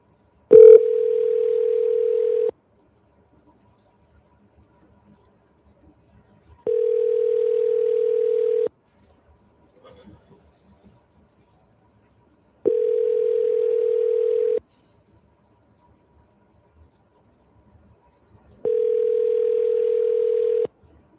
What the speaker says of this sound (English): Let's see if she picks up on the second call.